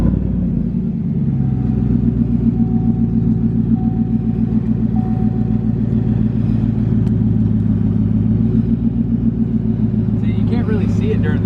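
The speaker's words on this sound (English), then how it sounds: "I do have to start the truck up" Lifted truck engine idling with a deep, steady low rumble, loud and close throughout, with a brief rise in noise near the end.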